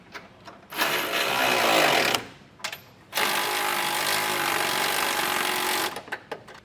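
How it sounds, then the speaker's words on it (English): A power tool tightens bolts on a Westin HDX grille guard with punch plate fitted to a 2022 Chevrolet, running in two sustained whirring bursts of about a second and three seconds, close and loud, with short clicks between. "and then we'll come through and tighten everything down"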